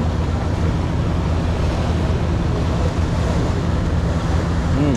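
Sea waves wash steadily in open water while wind buffets the microphone, forming a loud, continuous roar with no pauses and no voices.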